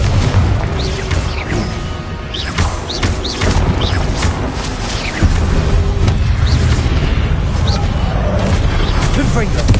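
Fiery Confringo spell blasts in the Hogwarts Legacy game, booming explosions repeated in a busy stream of combat noise with low rumble and sharp crackles throughout, heard with no speech.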